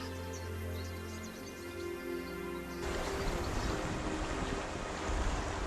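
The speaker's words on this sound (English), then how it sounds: "The chirping bugs, the singing birds, and the splashing waterfall make up the harmonious world down here." Water splashes at Tongling Waterfall in a canyon in southwestern Guangxi, a dense, steady rushing roar that grows fuller and louder partway through, heard alone without any talk.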